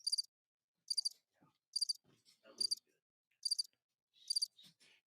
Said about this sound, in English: I have crickets.